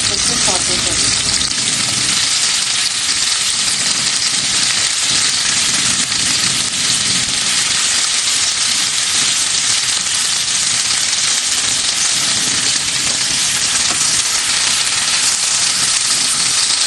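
Onions and bell peppers sauté in a pan with a loud, unbroken hissing sizzle that stays close and constant.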